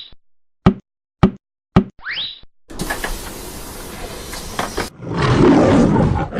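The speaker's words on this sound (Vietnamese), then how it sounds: "Con sư tử" A lion roars in a loud, rough, sustained call at the end, coming after several short popping sounds and a burst of hissy noise, with no talking.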